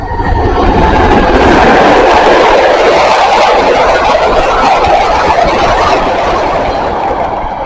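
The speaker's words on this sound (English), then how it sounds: "He's had to put his brakes on, I can hear him." A passing train brakes hard on the railway between Liskeard and St Germans, giving a loud, continuous, close roar and grinding rush that holds steady for several seconds before easing slightly.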